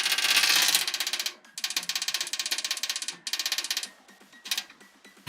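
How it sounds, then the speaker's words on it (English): A PC case fan whose hub scrapes against something inside a dented case as it spins, giving a fast, rattling mechanical clatter in bursts with short gaps, close and fairly loud. "I think some of the part of the fan hub is hitting on something."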